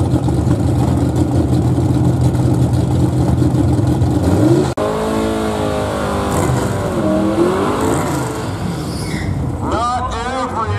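A 1973 Volkswagen bus fitted with an LS V8 runs at a small eighth-mile drag strip near San Diego. A loud, steady engine roar holds for several seconds, then cuts to a lighter rising and falling rev that ends in whining sweeps.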